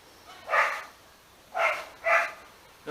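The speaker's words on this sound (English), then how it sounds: "that's somebody else's dog." A neighbour's dog barks outdoors in a vegetable garden, three separate barks at moderate distance with short pauses between them and no talking.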